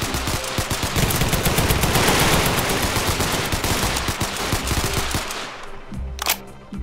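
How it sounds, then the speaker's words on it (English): Rapid automatic gunfire in a military roleplay game during a Taliban hostage standoff at a building entrance, loud, close, unbroken bursts for several seconds before easing, then one last short crack. "We're being shot at."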